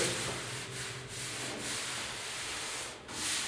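Steady back-and-forth rasp of hand sanding on the cab bodywork of a 1972 Ford F100 4x4, close and continuous with slight rhythmic dips between strokes.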